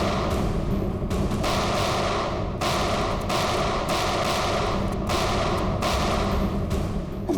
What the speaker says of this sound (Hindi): कवर फायर दो जल्दी।